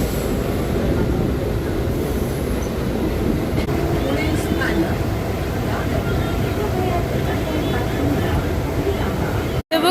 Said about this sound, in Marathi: माझ्या डोळ्याच्या समोरून चर्चगेट लोकल गेली.